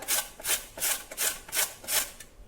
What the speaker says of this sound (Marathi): इथे किसणीवर आता आपल्याला हा भोपळा किसून घ्यायचा आहे